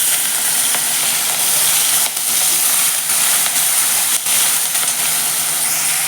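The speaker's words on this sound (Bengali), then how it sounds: "এবার ওই একই তেলের মধ্যে আমি চিংড়ি মাছগুলো দিয়ে ভেজে নেব।" Prawns coated in salt and turmeric sizzle in hot oil in a wok, making a steady, bright frying hiss with small crackles and brief dips, close and continuous without talk.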